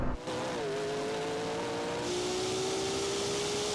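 Sports car engines strain at high revs during a drag race between a McLaren P1 and a Ferrari 296 GTB in third gear, a loud, continuous whine climbing steadily in pitch with a broad roar underneath.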